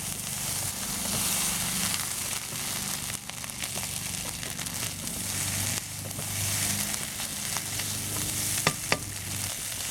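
Chinese pork sausage fried rice fries in a pan with soy and oyster sauce, a loud constant sizzle with stirring scrapes and a few sharp clinks near the end.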